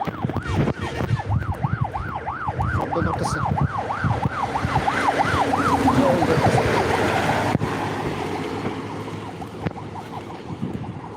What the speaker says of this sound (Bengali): পিছনে হয়তো একটা অ্যাম্বুলেন্স আসতেছে নাকি